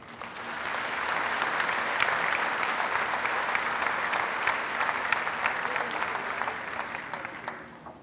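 Audience applause honors the valedictorian as she receives her medallion at a graduation ceremony, swelling into a full, sustained round of clapping before tapering near the end.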